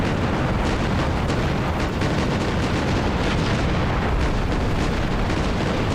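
Mortar shells exploding in Armored Brigade II, a constant roar of overlapping booms and rumbling blasts, loud and dense with no break, no voices.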